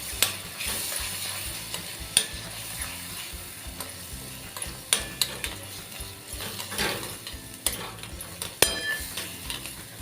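Green masala paste sautéed for a fish curry over a low flame, with repeated metallic scraping and clicking of a spoon against the pan and faint frying underneath, steady and close, with no talk.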